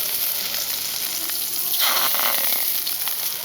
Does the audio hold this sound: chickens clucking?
no